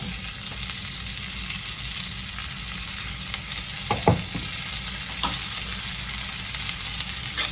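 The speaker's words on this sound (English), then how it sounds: "I'm gonna stir this around" Vegetables stir-fry in olive oil in a skillet, a steady close hiss of sizzling throughout, broken by a few brief clicks of a fork moving them around.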